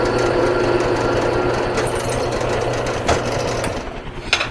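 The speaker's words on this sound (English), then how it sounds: "And I'm going to drill it another size bigger" Power drill boring a pilot hole through a steel dagger blank at the pommel end, a steady loud whirring grind held throughout with a slight drop and a couple of brief catches near the end.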